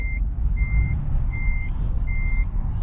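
Reversing beeps from a truck in Euro Truck Simulator 2 sound as four steady, evenly spaced tones over a low, rumbling engine drone, with no talk.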